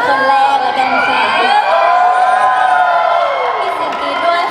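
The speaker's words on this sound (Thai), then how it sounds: "มีเสียงกรี๊ดด้วย" At a 7th anniversary concert, a large crowd shrieks and cheers in a loud, sustained wall of high-pitched screaming that swells and wavers without pause.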